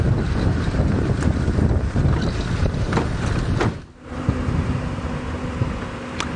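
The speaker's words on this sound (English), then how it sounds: "seems like Tristan is also driving about in the wind" Strong wind buffets the microphone on an open safari vehicle driving through Kruger, a loud roaring rumble that drops briefly before the rush returns.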